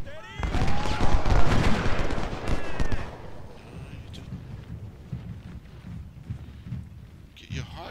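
Battle gunfire from Ultimate General: Civil War, a Malvern Hill engagement: dense crackling volleys and booming rumble build loudly and then fade to a steadier distant roar.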